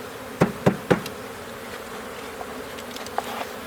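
Honey bees in a newly arrived package hum in a steady, close buzz while three sharp knocks sound early on and a few softer taps follow.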